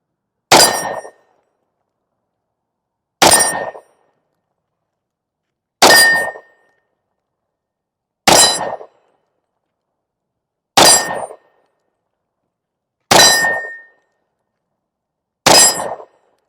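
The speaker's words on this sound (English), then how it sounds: "It's gonna be my first time really shooting this gun" An FNS 40C pistol fires seven sharp, loud shots at regular intervals of roughly two and a half seconds, each a crisp crack with a brief metallic ring, separated by near silence.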